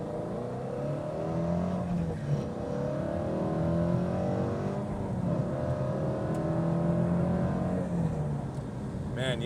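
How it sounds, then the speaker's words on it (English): A 2020 Ford Mustang GT350 in normal mode pulls hard through the gears from the cockpit, its engine note rising and falling steadily for about nine seconds. "But we'll try one good pull here in normal mode."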